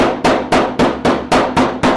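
A hammer strikes a used car floor pan on a 1970 Dodge in eight evenly spaced, sharp metallic blows, loud and close, each ringing briefly before the next.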